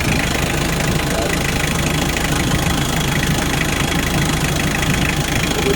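A used car engine idles steadily in a continuous, even mechanical drone with a faint knocking texture. Low voices may be faintly present underneath.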